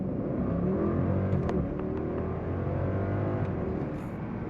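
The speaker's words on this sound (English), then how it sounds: "It's a very muted twin-turbo V8 from the Germans." A Mercedes-Benz S560 twin-turbo V8 launches hard from inside the cabin, a muted, rising engine drone building steadily with faint clicks and a brief whistle near the end.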